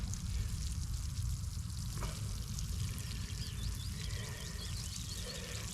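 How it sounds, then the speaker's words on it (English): Water pours steadily from a watering can onto newly planted red cabbage, French beans and peas in an allotment, a soft continuous splashing patter with no talk. "Just give it a good old watering in, that'll just"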